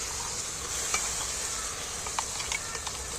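Onion and poppy seeds frying in a pan, a bright, steady sizzle with spatula scrapes and light clinks against the pan, nearby and without talk.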